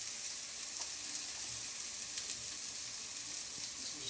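Crumbled chorizo sizzles in a hot pan with a steady, close, even crackle and hiss that runs without a break and has no talking over it.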